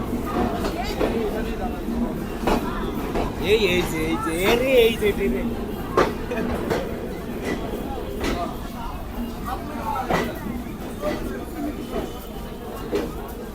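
A crowded platform at Jessore railway station as the Chitra Express pulls in, with a dense hubbub of many voices, a train's rumble and sharp clanks at intervals, and a nearby voice speaking over it.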